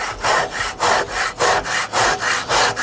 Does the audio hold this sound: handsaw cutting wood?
yes